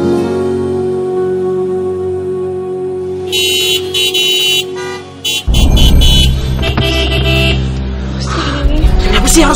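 Cars stuck in a traffic jam sound their horns in a run of short and sustained honks, then a loud, close rumble of idling and creeping vehicles takes over with more horn blasts on top.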